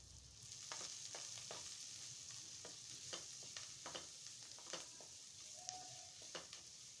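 Onions frying in a pan for mutton sambar, a steady broadband sizzle with scattered stirring clicks and scrapes throughout, heard alone at moderate level.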